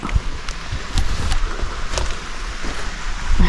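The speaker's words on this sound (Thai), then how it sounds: "ดูน้ำตก" A forest waterfall gives a steady broadband rush of falling water, fairly close and continuous, with a few brief louder splashes or knocks over the even roar and no talking.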